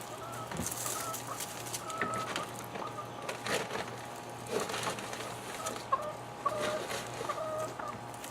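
Homestead chickens cluck softly after feeding, a low, busy murmur of several birds with scattered louder clucks, close by and steady, with no talk.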